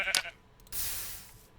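A sheep bleats in a video game, a short nasal bleat near the start, followed by a burst of broad rustling hiss. The whole sound is faint.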